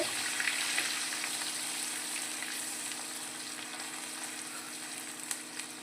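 Masala sautéing in hot oil for a capsicum and onion curry, a continuous loud sizzle with occasional small pops and crackles, steady throughout with no talking.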